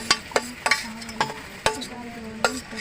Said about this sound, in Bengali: আমি দইটাকে ফাটিয়ে নেব